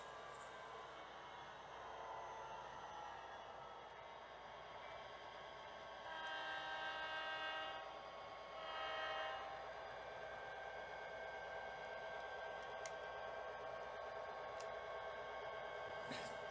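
An HO scale model locomotive hauling empty boxcars on a switching layout gives off a continuous electric motor whir and rail rumble, close and steady, swelling slightly in the middle.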